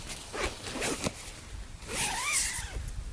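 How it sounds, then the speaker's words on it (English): A zipper on a Nemo Hornet 2P backpacking tent is opened in several quick, raspy pulls, with short pauses between strokes, close and clear. "I'll open the tent up here."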